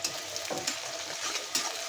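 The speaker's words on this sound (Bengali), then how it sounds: "আমি এখানে পেঁয়াজটা বেরেস্তা করে নেব" Onion frying in hot oil in a pan, a steady, quiet hiss and crackle with soft stirring scrapes throughout.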